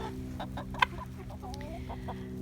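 Chickens cluck quietly in short scattered calls inside a small 4x6 winter coop, over a steady low mechanical hum, with one sharper squawk early on.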